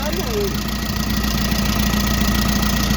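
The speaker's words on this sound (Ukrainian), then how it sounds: "Мотор є, мотор живий хороший. Простий отакий дизель." A simple Isuzu diesel engine without a turbo runs at a steady idle, a constant close-up mechanical drone with a low rumble, while someone speaks over it.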